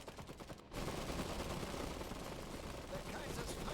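Gunfire in the video game Iron Harvest, a dense, steady wash of battle noise that carries on without breaks after a brief quieter start.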